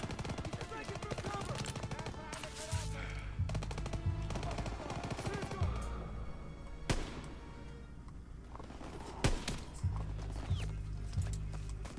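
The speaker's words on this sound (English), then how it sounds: "There's more machine guns." Machine gun fire from Call of Duty WW2 gameplay rattles in repeated rapid bursts, mixed with single gunshots and other battle noise; loud and close throughout.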